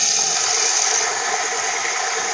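An electric coffee grinder grinding coffee beans, a steady close whirring and grinding drone that holds constant throughout, loud and alone.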